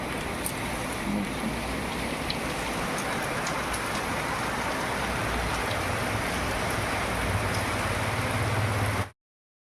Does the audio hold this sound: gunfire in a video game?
no